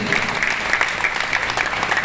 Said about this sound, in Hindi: एक बार अपनी अंतर गहरात्मा की गहराइयों से ताली बजा करके इस परिवार के लिए जो है धन्यवाद दें।